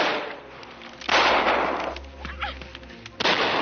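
Gunshots in a 1952 western, The Pathfinder, two loud booming blasts about two seconds apart over a noisy, muffled old film soundtrack.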